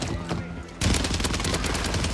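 Gunfire in a Call of Duty match on Rebirth Island, a loud burst of rapid automatic shots that breaks in suddenly after a quieter moment and keeps rattling densely to the end.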